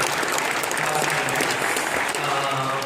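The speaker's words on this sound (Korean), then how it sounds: "박수해 주시죠." A church congregation applauds during a worship service, a dense, steady wash of clapping filling the room for a few seconds with a faint voice underneath.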